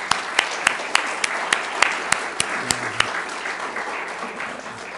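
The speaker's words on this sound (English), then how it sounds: "let's give them a good round of applause" A church congregation applauds military servicemen during a Veterans Day morning service at a Baptist church, producing a loud, steady clapping with sharp individual claps ringing out at a regular beat close by.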